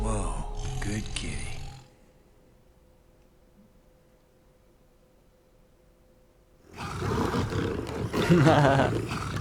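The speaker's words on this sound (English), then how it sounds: "then you feed Snowflake, the tiger" In the video game Dead Rising 2, a tiger gives a loud, growling roar at the start. A long quiet gap follows, then a second burst of roaring rumble. Someone talks over the game sound.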